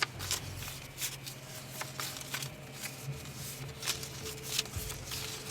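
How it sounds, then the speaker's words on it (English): A deck of playing cards being shuffled quickly during a tabletop card game, with repeated crisp riffling and flicking bursts close up over a few seconds. "Let's give it a quick shuffle."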